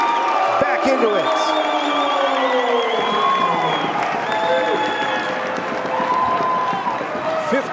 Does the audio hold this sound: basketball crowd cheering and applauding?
yes